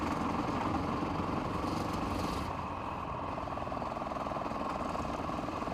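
A motorbike engine in a video game, a steady mid-pitched drone held in high gear at constant loudness, running alone for the whole stretch.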